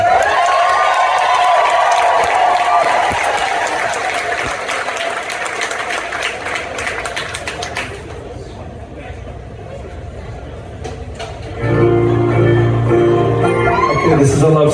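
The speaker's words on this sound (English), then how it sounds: "round of applause for JJ" Concert crowd at Roseland Theater in Portland applauding and cheering loudly for several seconds, then fading into scattered claps and murmurs before a voice and music come in near the end.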